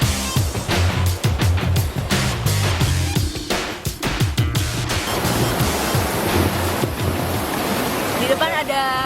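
Loud, churning rush of river rapids in a narrow channel fills the scene continuously, with bumps and knocks breaking through the roar, close and constant.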